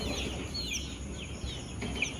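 Young layer chicks on a poultry farm, frightened after a power cut, give a scatter of faint high chirps and calls over steady farm background hum, with no voices.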